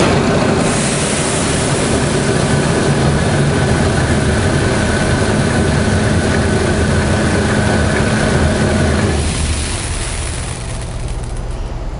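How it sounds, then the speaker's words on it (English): A Bourgault 6000 Series air seeder's calibration motor drives the metering auger with a loud, steady mechanical drone and rumble, holding constant for about nine seconds before dropping off and fading lower at the end. "when we turn the calibration motor on, we're going to charge that product"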